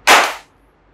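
A single sharp crack as a Huawei Y9 Prime 2019 pop-up camera smartphone strikes the ground in a drop test, one loud impact that decays within half a second into near silence.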